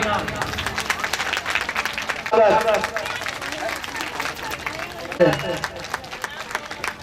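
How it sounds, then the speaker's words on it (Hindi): At a Nirankari Sant Samagam religious gathering, a crowd breaks into loud, sustained applause, with a voice speaking over the clapping at intervals. "जोरदार तालियां।"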